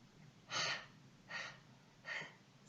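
Three deep inhales taken during a slow breathing exercise, soft airy breaths evenly spaced about a second apart, close and quiet with no talk.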